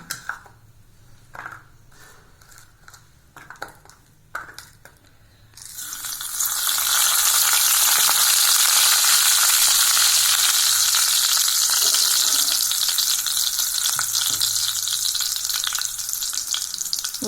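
After a few light clinks and taps, fennel seeds hit hot oil in a kadai and a loud, steady sizzle of frying takes over and continues to the end.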